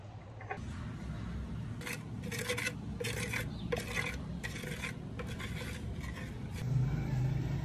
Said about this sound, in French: on va renverser l'huile de karité et on va touiller à l'aide d'une petite cuillère afin de la solidifier